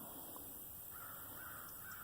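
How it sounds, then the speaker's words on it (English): Crows cawing outdoors at dusk on a Missouri property among pear trees, the calls faint and distant over steady background hiss, with no one talking. "The crows are out singing their song."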